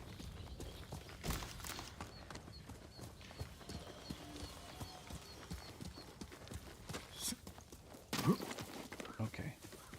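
Horse hooves clip-clopping over the ground in the game Ghost of Tsushima, a steady walking rhythm fairly faint beneath ambient game sound, with a louder burst near the end and some talking in the background.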